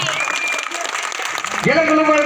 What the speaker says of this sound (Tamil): கொஞ்ச நேரம் கைதட்டுங்க